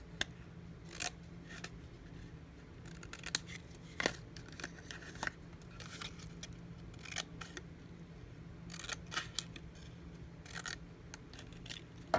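Scissors cut through scored paper to trim the angles of a small folded box, giving a quiet, close run of crisp snips and light paper rustles at an uneven pace, with no talking.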